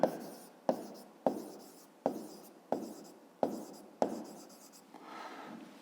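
A pen writing an answer in a school math notebook, heard as seven regular strokes, each a sharp tap followed by a short scratch, close and clear in a quiet room, then a softer looser scribble at the end.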